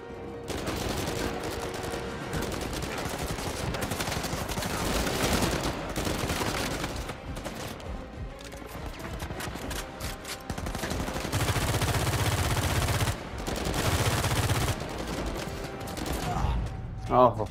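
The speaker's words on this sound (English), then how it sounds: "Feels like they're shooting from everywhere." Enemy gunfire in Uncharted 4 pours in from all sides. Automatic weapons and single shots crackle in a continuous fusillade that runs the whole time, with layered bursts near and far.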